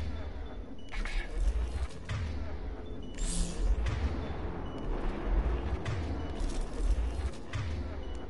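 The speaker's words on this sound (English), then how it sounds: "Gunfire. They are near." Dense, continuous gunfire and booming blasts rumble through a busy Mass Effect 3 battle, with scattered sharp shots over a low roar.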